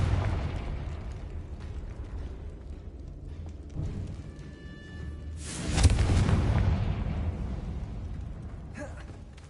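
A Confringo fire spell blasts inside a crumbling catacomb in Hogwarts Legacy, erupting partway through as a loud booming burst over low rumbling ambience, then decaying into a lingering roar.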